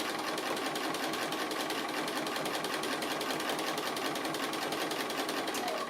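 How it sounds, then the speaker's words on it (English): A sewing machine does free motion stitching around an appliqué dog, running as a steady, fast, even needle chatter throughout, moderately close and alone without talk. "It's quite fun actually, quite therapeutic, this free motion stitching."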